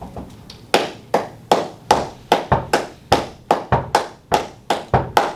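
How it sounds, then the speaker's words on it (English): Flamenco hand claps with foot taps falling between them, close and crisp, in a brisk repeating pattern of sharp claps and softer thuds, with no voices. "You hear that foot that's in between my claps?"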